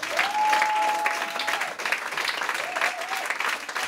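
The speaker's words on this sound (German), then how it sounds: "Einen sympathischen Applaus an diesen wundervollen DJ." Concert crowd applauding for a DJ at a live trap show, steady broadband clapping throughout with two short whistle-like tones riding over it.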